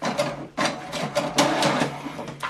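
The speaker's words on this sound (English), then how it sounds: "So what it's going to do now is going to print the wireless information." An HP DeskJet 2710e printer runs off a wireless information page, with repeated mechanical whirring bursts and short pauses as the carriage and paper feed move, close and fairly loud.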